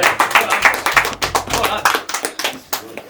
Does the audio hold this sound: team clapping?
yes